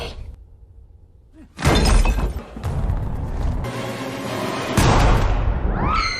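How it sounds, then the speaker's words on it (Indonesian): A stray bullet smashes through a glass partition in a film scene, with a loud burst of shattering glass and crashing debris that carries on for several seconds after a quieter opening. "tak sengaja melukai perut Henry dan satu lagi peluru nyasar yang menembus kaca pembatas"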